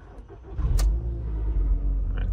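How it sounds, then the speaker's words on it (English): A 2004 Audi TT engine cranks and catches, settling into a loud, steady idle rumble close by for a couple of seconds, with no talking. "if I just start the car up again"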